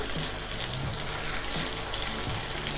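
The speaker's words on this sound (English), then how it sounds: "So just give it a little splash of water," Water splashes into a hot pan of Thai basil pork stir-fried with green beans, a steady broad hiss and sizzle filling the clip at a moderate level with no talking.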